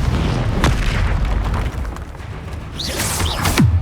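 Bombarda and Confringo spells explode in Hogwarts Legacy, with heavy booming blasts and a rumbling low roar throughout, loud and dense, plus a couple of whooshing magical streaks near the end.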